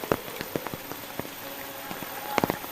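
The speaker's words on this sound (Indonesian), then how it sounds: "Enak ya, hujan rincik-rincik di pedesaan, sejuk banget di sini." Light drizzle falling in a rural Indonesian village, scattered soft drops tapping nearby surfaces over a quiet, steady hiss.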